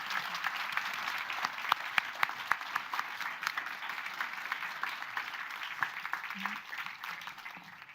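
An audience applauds the ministers at the Hanalys 2026 gathering, a steady wash of many hands clapping at moderate volume that holds for the full stretch and thins slightly at the end.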